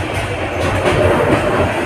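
Cox's Bazar Express passenger train rolling along the rails between Dhaka and Cox's Bazar, a steady close rumble with faint rhythmic wheel clatter running continuously, no voices.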